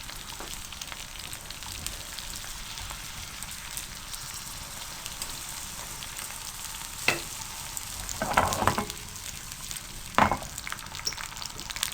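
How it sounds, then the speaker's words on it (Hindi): Steady low sizzle of ginger and green chillies frying in a pan, with a few sharp clinks and stirring scrapes near the end; no one speaks. "हल्का सा फ्राई करें।"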